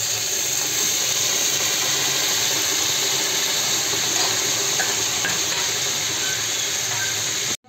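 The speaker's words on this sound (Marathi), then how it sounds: "हे बघा आता मी ह्याच्यामध्ये पाणी घालून घेते" Water poured into a pan of Maharashtrian brinjal (eggplant) curry gives a steady, close hissing rush that holds evenly for about seven seconds before cutting off.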